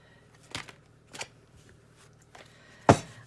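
A deck of tarot cards is shuffled close up in a quiet room, giving four short, separate riffling bursts spaced about a second apart, the last one the loudest.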